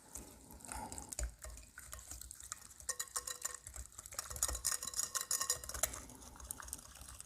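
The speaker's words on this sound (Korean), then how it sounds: "한번 잘 섞어 주겠습니다." A spoon whisks pumpkin cake batter of egg, vanilla extract and oil in a bowl, close and quiet, with quick rhythmic scraping and light clinks against the bowl that build in pace.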